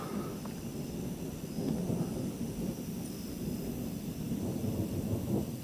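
Thunder rumbles low and continuous from an overhead lightning storm in Dublin, Indiana, a deep rolling roar that swells and fades without any voices.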